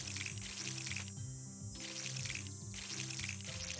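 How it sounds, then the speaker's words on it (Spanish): A watering can pours water in the farming video game Monster Harvest, two short splashing pours cutting through steady game music. "Te quedas súper rápido sin agua en la regadera"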